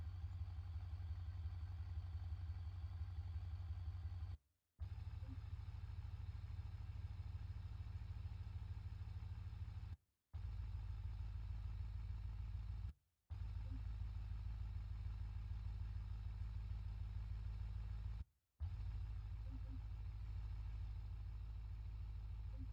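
Virtual V8 car engine idling in the BeamNG driving game, a steady low rumble that cuts out abruptly for a moment four times, with faint talking in the background.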